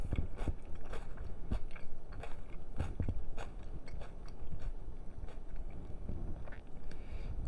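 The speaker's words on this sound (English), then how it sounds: "I love the crunch of the bell peppers." Someone eats a homemade macaroni and ham salad with crunchy bell peppers, onion and dill, and close, irregular crunching and chewing bites run throughout with no talking.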